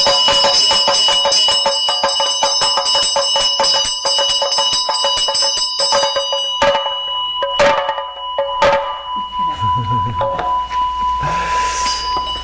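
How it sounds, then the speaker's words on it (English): Rapid clustered strikes of a Buddhist ritual bell during a dedication give way to a long, bright ringing tone that is left to decay, close and loud with no talking. "I like to let the bell actually ring a little bit at the time when we're doing that"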